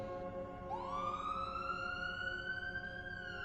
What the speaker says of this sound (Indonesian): Pak Budi menjalankan mobil ambulannya meninggalkan TKP menuju rumah sakit terdekat dengan sirine yang berbunyi nyaring.